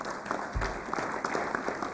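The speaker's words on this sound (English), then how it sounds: "Let's give them a round of applause." Applause at a city council meeting, a steady patter of clapping from a modest indoor crowd, sustained throughout and fairly close.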